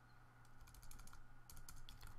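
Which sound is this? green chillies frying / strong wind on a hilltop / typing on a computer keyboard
typing on a computer keyboard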